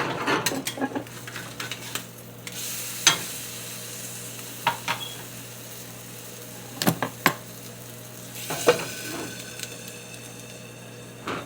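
Breakfast sandwich food sizzles in a hot pan as it is flipped, with a steady frying hiss under sharp scraping and clanking of a utensil against the pan. The scrapes come in scattered, close, irregular bursts.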